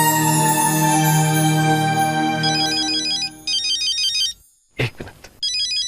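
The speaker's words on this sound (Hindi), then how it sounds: "शेट्टी का फोन।" A mobile phone ringtone plays loud and close, a bright electronic melody repeating in short bursts, interrupted once by a brief rustle.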